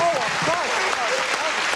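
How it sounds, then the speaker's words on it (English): Studio audience applause on a 1980s British television game show, a dense continuous wash of clapping with a voice rising over it. "Applause, applause."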